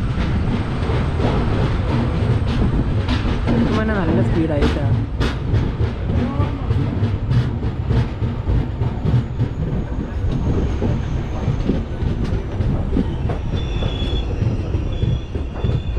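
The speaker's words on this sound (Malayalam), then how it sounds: "3 മിനിറ്റത്തെ ഹോൾഡിന് ശേഷം പാലക്കാട് ജംഗ്ഷൻ റെയിൽവേ സ്റ്റേഷനിൽ വണ്ടി എടുത്തിരിക്കുകയാണ്." A Kannur–Yesvantpur Express sleeper train pulls out of Palakkad Junction after a three-minute halt, with a steady loud rumble, rhythmic clacking wheels and occasional squeals, heard from on board while a voice speaks briefly.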